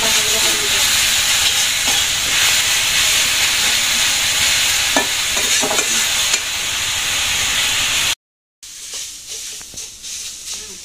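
Jute leaves being stir-fried in a pan during simple village cooking give a dense, continuous sizzle and hiss with occasional scraping stirs, loud and close, broken by a brief silence near the end before the sizzling resumes more faintly.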